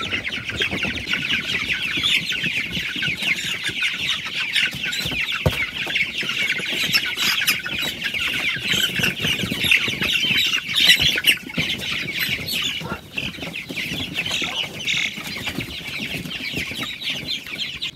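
Young chicks among a batch of two hundred being moved make a continuous flock commotion of squawks, clucks and flapping, close and busy, with no talk.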